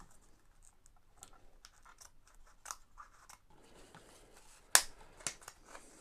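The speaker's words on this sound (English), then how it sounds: "I think I'm going to have to just get some scissors and cut this out." Scissors snip through a plastic orchid pot to free the roots, giving a series of faint crisp cuts and scratches that build to one sharp loud snap near the end, followed by a softer click, with no talking.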